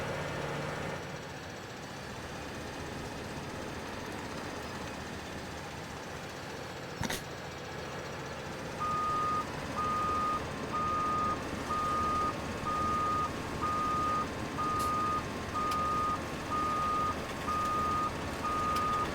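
A truck towing a trailer in Farming Simulator reverses, its backup alarm beeping in an even, steady rhythm over a low engine rumble that runs throughout.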